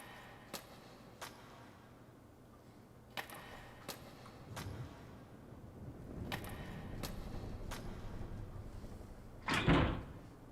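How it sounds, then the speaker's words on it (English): Something slamming against a door in the horror game Death Mark: a series of sharp, fairly quiet knocks spaced apart, then a louder, heavier bang close by near the end, with no talking. "I hear a noise like something slamming against the door."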